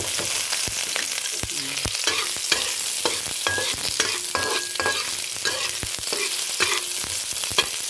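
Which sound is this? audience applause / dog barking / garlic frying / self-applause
garlic frying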